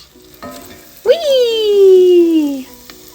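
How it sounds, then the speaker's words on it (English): Small Kalamata olive croutons drop into hot oil in a pot, setting off a loud sudden sizzle that swells and holds for a couple of seconds before easing, with a squeaky tone riding over the frying. "The sizzle."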